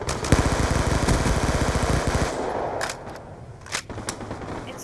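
Rapid automatic gunfire from a Call of Duty Black Ops 2 gun game match rattles loud and continuous for about two seconds, followed by a few scattered shots over game ambience.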